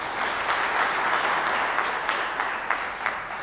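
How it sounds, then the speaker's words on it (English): An audience at a policy lecture on climate action claps steadily for a speaker, a moderate, even wash of applause with a few sharper individual claps, heard alone without talk. "So let's clap for him."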